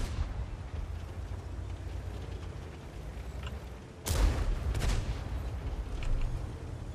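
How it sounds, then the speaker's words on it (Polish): Gunfire in a tank battle video game: a low rumbling background, then a sudden sharp cannon-like blast followed by a couple more booming shots at moderate volume. "Rosyjskie strzały."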